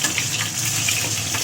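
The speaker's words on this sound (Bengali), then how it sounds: "ধোয়া তেজপাতাটা মাত্র খালি জলে তেলে ফেলা হয়েছে," A washed, still-wet bay leaf dropped into hot cooking oil, giving a continuous loud sizzle and spatter that holds steady through the moment, close and with no talking.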